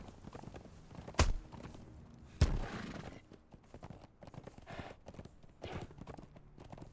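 Hooves of a galloping horse in the video game Conan Exiles clip-clop in a quick rhythm over a noisy background, broken by two sharp loud impacts early on, with faint voices underneath.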